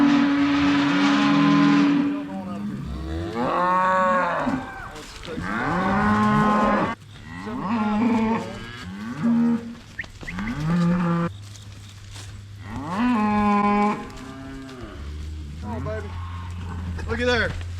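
Cows and calves moo repeatedly from pens during fence-line weaning, long drawn-out bawls overlapping one after another at close range, some low and some higher-pitched, with a steady low hum underneath.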